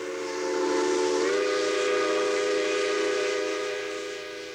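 A steam locomotive's whistle blows loud and sustained with a hiss of escaping steam, its pitch rising slightly after a second and holding steady before easing off, heard alone and close.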